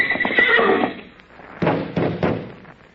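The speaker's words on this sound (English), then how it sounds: "that's a nice horse you got there, Wonderful." A wild horse whinnies loudly up close, a shrill neigh followed by a few heavy thuds and hoof knocks.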